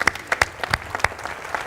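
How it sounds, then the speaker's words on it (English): Audience applause for children at the close of an evening event, a brief burst of scattered, fairly close hand claps with uneven rhythm. "Let's give the kids a round of applause for a great night"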